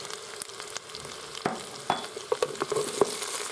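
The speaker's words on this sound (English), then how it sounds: "we're just going to continue sauteing for the next couple of minutes, releasing all those delicious flavours" Onion, garlic, red chilli and ground cumin sauté in a pan while a wooden spoon stirs, producing a close, steady sizzle broken by irregular scraping taps and soft knocks, with no voices.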